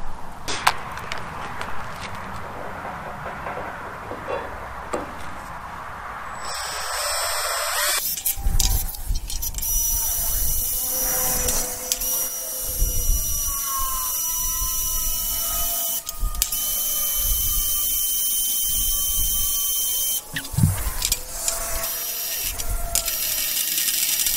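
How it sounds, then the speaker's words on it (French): A drill bores through a steel plate being made into a base for a Hi-Lift farm jack, giving a steady grinding whir with shifting tones and scattered clanks in a workshop, with no one speaking. "déjà on va percer"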